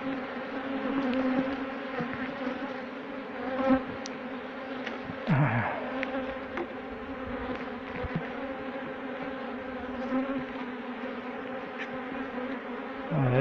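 Many honeybees hum in a dense, steady buzz close by around a hive from a split colony, with individual bees rising and swooping past now and then.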